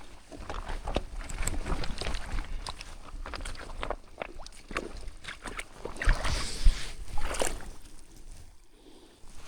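Footsteps wading across a swamp, a series of irregular splashing, sloshing steps through shallow water at close range, rising to louder squelching plunges near the end.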